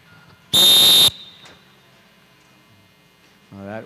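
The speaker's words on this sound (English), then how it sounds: "whistle from our starter, Gibby Volsevich, signaling our skaters" A starter's whistle gives one loud, sharp blast lasting about half a second in a quiet arena at a junior speed skating championship, and a voice comes in briefly at the end.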